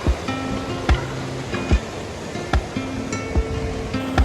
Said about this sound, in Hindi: ये माहे ब्रिज क्रॉस करने के बाद पहाड़ी नदी बह चली है।